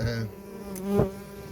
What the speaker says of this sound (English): So there's the first little bit of bumblebee's nest. This little bee trapped under there.